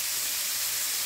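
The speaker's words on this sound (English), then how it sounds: "look how that chicken's frying up nice and good." Chicken breast fries in a hot pan, giving a steady, close, loud sizzling hiss that runs unbroken without any voices.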